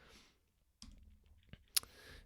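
A few scattered computer mouse and keyboard clicks, sparse and close, with one sharp click standing out near the end against a quiet room background.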